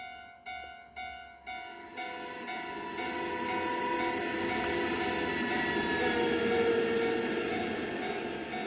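A train hauled by a 2TE116 diesel locomotive rolls past a level crossing close by, with steady rumbling and clattering of wagons and a sustained high squeal, following a few rhythmic clunks at the start.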